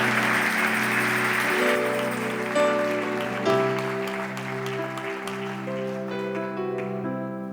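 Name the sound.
church congregation applauding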